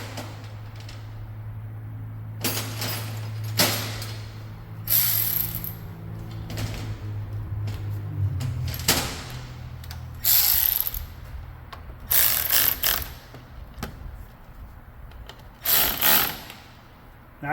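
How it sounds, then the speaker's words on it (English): Battery terminals are tightened with a ratchet, giving repeated quick clicking pawl bursts close up over a steady low hum, with metallic taps in between and no talking. "So let's tighten up those terminals real quick."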